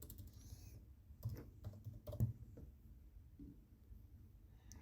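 Faint, scattered keystrokes on a computer keyboard while CSS code is typed, arriving as a few soft clicks in small bursts over a quiet room background.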